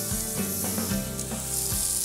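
Lamb meat drops into a pot with cinnamon sticks and bay leaves for a lamb tagine, raising a quiet, steady sizzle with soft rubbing and stirring bumps underneath and no voices.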